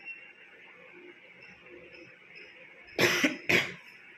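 Two sharp coughs from a person with a sore throat, close together near the end, loud and close, following a few seconds of quiet room hum.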